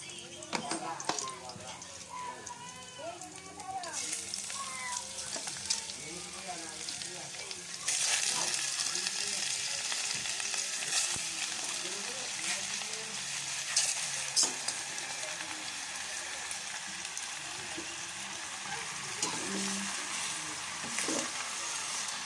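Squid rings (calamares) sizzle steadily in a pan with garlic for adobo, the frying growing louder and more continuous after a few seconds while a voice talks over the start.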